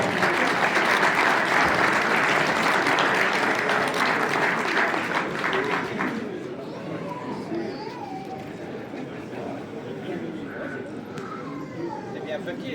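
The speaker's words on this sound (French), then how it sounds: "On les applaudit bien fort." An audience at an awards ceremony for Belgian slalom division and class winners applauds steadily and densely for about six seconds. The clapping then thins out, leaving background chatter.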